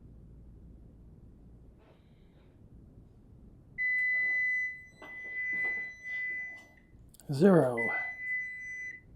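A kitchen timer sounds while keto brownies bake in the oven, giving a steady, clear electronic beep tone that holds for several seconds amid soft breathing and handling noise.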